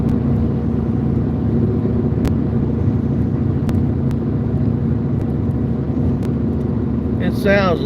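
A car drives along a road during a storm chase in Oklahoma or Kansas, giving a constant loud close cabin rumble and road noise, with a few sharp clicks and a short burst of sound at the very end.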